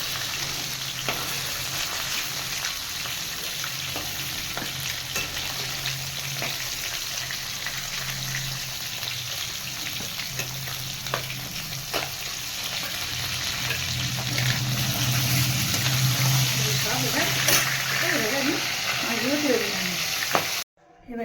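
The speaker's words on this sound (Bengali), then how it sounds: "বেশি ভাজবো না একদম কড়া করে আমি কোনো সময় কড়া করে মাছ ভাজি না" Snakehead fish fry in hot oil in a pan, a steady loud sizzle and crackle that continues throughout and intensifies toward the end before stopping abruptly.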